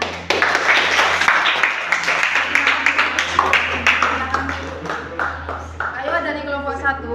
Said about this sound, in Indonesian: Oh ya, tepuk tangan.